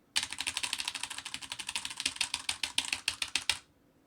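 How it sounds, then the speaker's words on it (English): Fast, steady typing on a computer keyboard right in front of a microphone: a close, dense clatter of keystrokes for about three and a half seconds that then stops abruptly. "Absolutely nobody wants to hear the keyboard."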